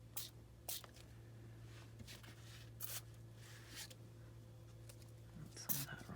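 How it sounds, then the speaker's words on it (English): Several short, sharp spritzes from a spray bottle of coffee hiss out at irregular intervals over a quiet low hum, with soft handling sounds between them, spraying onto journal pages. "I put it in a spray bottle"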